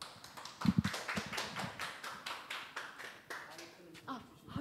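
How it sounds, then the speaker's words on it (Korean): Welcoming applause from a church teachers' gathering as a pastor steps up to lecture, with steady rapid clapping throughout and a louder burst of hand claps near the start. "나오실 때 환영의 박수로 맞이하도록 하겠습니다."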